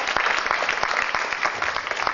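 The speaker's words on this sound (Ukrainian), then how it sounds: "Отже, прошу аплодисменти, будь ласка." Audience applause at a live event for a band, a dense, steady crowd clapping filling the whole stretch at even loudness with no voices over it.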